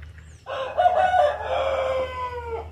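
A rooster crows loud and close on a farm raising free-range chickens, one long drawn-out cock-a-doodle-doo over a steady low hum, with faint clucking of the flock around it.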